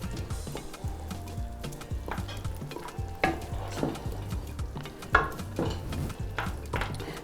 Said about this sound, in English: I'll give it a slight stir and then cover it and let it cook.